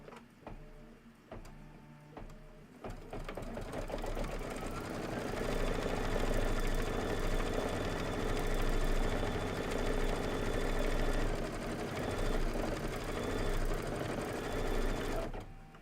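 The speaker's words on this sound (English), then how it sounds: "I'm going to let it stitch." An embroidery-capable sewing machine stitching pillow fabric, starting after a few clicks and settling into a steady, fast mechanical whir that runs for most of the clip before stopping abruptly near the end.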